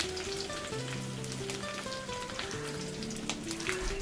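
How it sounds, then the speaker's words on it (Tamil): Mustard seeds and urad dal spluttering in hot oil with curry leaves and dried chillies make a fine rain of crackling pops and sizzle, running steadily beneath a tuneful background melody. "கடுகு உளுந்த பருப்பு பொரிஞ்சாச்சு"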